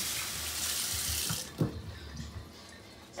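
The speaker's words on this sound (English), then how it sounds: "of course I gotta wash my hands." Water runs from a kitchen tap for about a second and a half while hands are washed, then stops, leaving a few faint splashes and drips.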